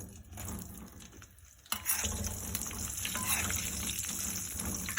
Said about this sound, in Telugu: ఇవన్నీ ఇలా వేయించుకోవాలి